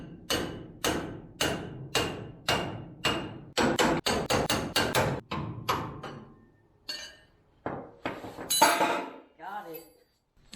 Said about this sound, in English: I'm going to take the pickle fork and try to get that off.